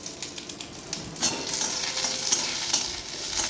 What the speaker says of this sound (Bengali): তো দেখো হালকা হাতে একটু নেড়ে নিচ্ছি